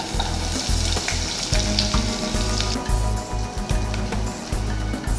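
Sliced onion frying in oil in a pan, with a steady crackling sizzle broken by rhythmic scraping and stirring strokes, close and fairly loud with no talk.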